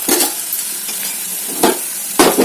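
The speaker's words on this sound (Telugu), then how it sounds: "ఇప్పుడైతే పోపు అయితే మొత్తం వేగిపోయింది." Mustard seeds and cumin tempering fry in hot oil in a pan, giving a steady close sizzle and crackle with a few louder stirring scrapes and spits, no voices.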